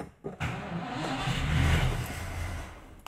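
A Simca Chambord being started with the choke not set: a couple of sharp starter clicks, then the engine catching and swelling into a rough, rising roar before settling, close and loud, with no speech.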